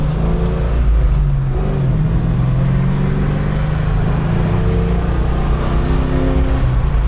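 A 1993 Ford Mustang LX 5.0 Fox body V8 idles with a steady, deep rumble and a gentle rise in revs, close and continuous with no talk.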